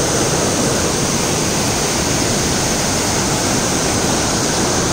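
A large waterfall at Plitvice Lakes, Croatia, pours down from the mountains just below a bridge, giving a loud, steady, full roar of rushing water with no break or voices.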